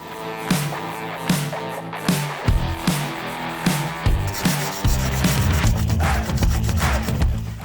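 Repeated strokes of hand sanding across a UV resin-coated 3D-printed headpiece, a rhythmic rubbing rasp that comes in short bursts and then settles into steadier, faster passes, close and fairly loud with no talking.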